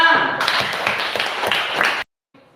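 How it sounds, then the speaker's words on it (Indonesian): Hands clap rapidly and steadily for about two seconds as part of a movement exercise, close and fairly loud, then stop abruptly into near silence. "Nah, ini gerakannya. Tepuk tangan."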